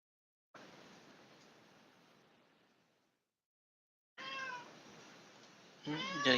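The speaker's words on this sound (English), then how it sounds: "Got a cat yelling at me." A cat yells loudly nearby, a few harsh, rising meows coming in after stretches of hiss-like noise and a short silence, growing louder toward the end.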